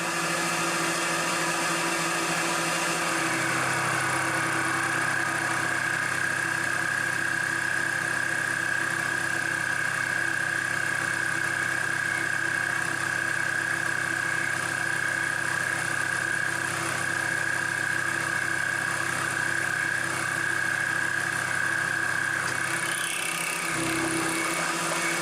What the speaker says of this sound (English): I think we'll do a 25 thousandths pass.